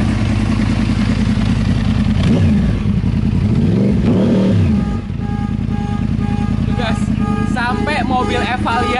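A 2012 Yamaha YZF-R1 with its crossplane four-cylinder engine revs hard close by, a rumbling idle broken by repeated sharp throttle blips, with people talking over and between the revs.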